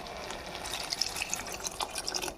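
Water being poured into a pan of meal maker curry, a faint trickle with small drips and splashes, quiet and close, with no talk.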